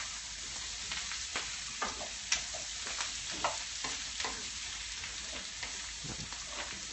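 Vegetables coated in olive oil crackle and sizzle in a pan, a steady close frying hiss broken by scattered pops and stirring clinks.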